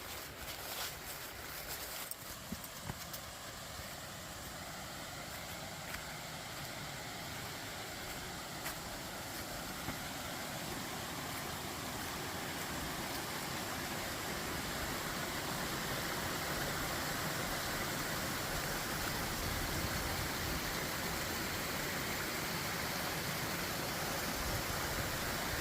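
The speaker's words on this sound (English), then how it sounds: "there's a peaceful flow on the falls today" Bark Camp Creek Cascades waterfall in Kentucky's Daniel Boone National Forest in late fall, running at a gentle flow: a steady, continuous broadband rush of falling water with no voices, holding an even level throughout.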